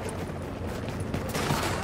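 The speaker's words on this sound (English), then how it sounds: "I'm getting shot at" Gunfire in the video game Tom Clancy's The Division, a steady clatter of rapid overlapping shots with no clear gaps, moderately loud throughout.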